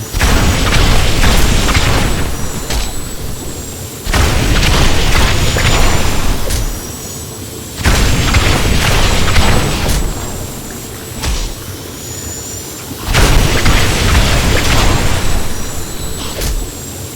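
Explosions triggered by the Wand of Woh effect in a video game burst out loudly in a repeating pattern, four heavy booming bursts roughly every three to four seconds, each trailing into mechanical crackle before the next.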